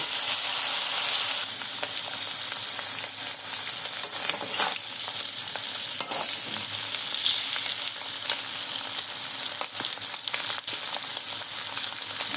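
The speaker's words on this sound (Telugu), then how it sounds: "ఆయిల్లో బాగా మరుగుతున్నాయి" Dried fish sizzles and fries steadily in hot oil for a dry fish and white brinjal curry, with occasional stirring scrapes and clicks over the constant bubbling hiss.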